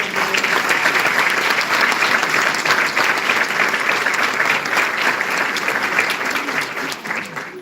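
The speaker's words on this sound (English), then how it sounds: "Would everyone give him a big round of applause?" A live audience gives a big round of applause, dense and loud continuous clapping from many hands that holds steady for several seconds before easing slightly at the end.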